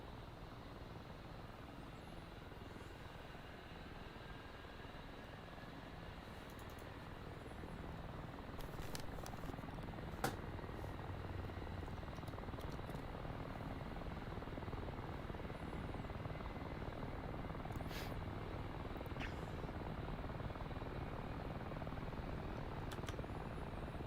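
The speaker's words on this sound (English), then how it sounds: "Alright, left engine is on." An A-10C jet engine starts up in the DCS flight simulator, a steady broadband turbine roar that steps up in loudness partway through, with a thin rising whine and occasional clicks of switches.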